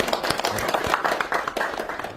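An audience applauds during a panel introduction at a budget-saving government meeting, a dense, steady burst of clapping from many hands in a room, fairly loud throughout.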